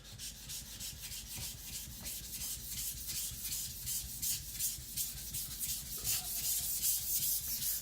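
A Chinese cleaver from IKEA is rubbed against a fine whetstone in steady back-and-forth strokes, each pass giving a rhythmic gritty scrape, close and fairly loud, with no talking.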